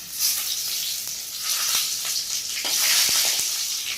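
Eggplant pieces frying in a pan of hot oil, a steady close sizzle throughout with a few soft clicks of stirring, no voices.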